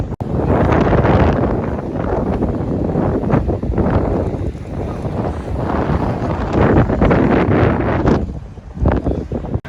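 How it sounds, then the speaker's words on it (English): Strong, cold wind buffeting a microphone beneath the Eiffel Tower in Paris, a constant loud roaring rumble that surges and eases in gusts with no speech. "The wind is blowing and it's so cold."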